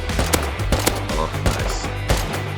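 Bursts of gunfire in the survival game Rust, loud and close, with several sharp shots cracking over a low rumbling game soundscape.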